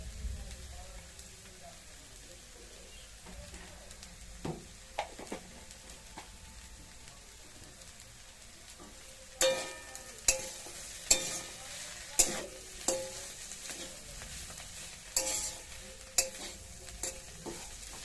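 Food sizzles and fries steadily in a pan with garlic and chilli powder, with a series of sharp clacks from stirring in the second half.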